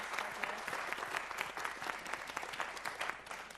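An audience claps steadily, a dense, even wave of applause from a moderately sized crowd, continuing throughout.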